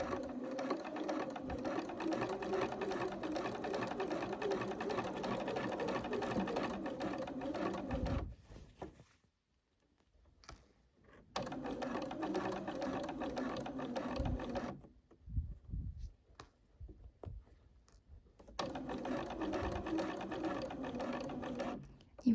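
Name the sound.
sewing machine stitching a blouse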